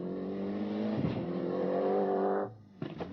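A rally car at the 1995 Ulster Rally revs hard on a tarmac stage, engine note climbing loudly and near for about two and a half seconds before cutting off, then a short blip of throttle.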